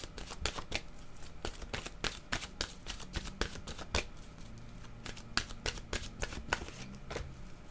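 Oracle cards from an intuitive-soul oracle deck being shuffled, a steady run of quick papery riffles and taps close by, with no talking.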